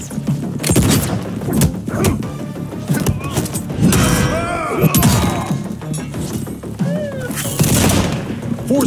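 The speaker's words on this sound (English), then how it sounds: "It's a torpedo!" Explosions and blasts from the Mortal Kombat fighter Peacemaker's torpedo attack boom and crash in quick succession over game music, with voices shouting throughout.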